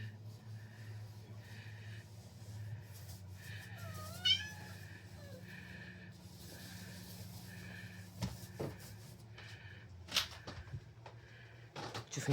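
A cat meows a few times in a quiet home, brief rising and falling cries standing out clearly over a steady low hum from a television in the room.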